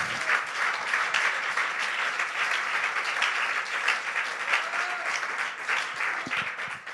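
A church congregation applauds together in steady, dense clapping that fills the space without pause, with faint voices mixed in.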